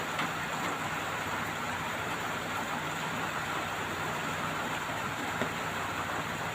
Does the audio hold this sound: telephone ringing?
no